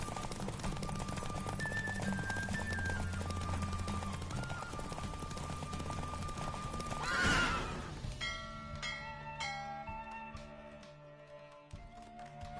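Horse racing in The Witcher 3 video game, with steady galloping hoofbeats under a droning game soundtrack that cuts out midway, followed by a sharp neigh and bright chiming melody tones as the race ends.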